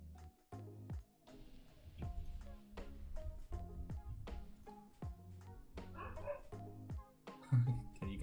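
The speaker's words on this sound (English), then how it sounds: "Can you guys hear the dogs barking in the background?" Dogs bark repeatedly in sharp, irregular yaps and woofs, some fainter and farther off, with occasional whimpers between the barks.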